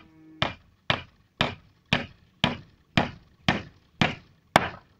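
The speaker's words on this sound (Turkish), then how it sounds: "Hadi oraya bir çivi daha çak" Steady hammer blows drive a nail into a wooden fence outdoors during a fence renovation around a house, about nine sharp, evenly spaced strikes, close and fairly loud, each ringing briefly before the next.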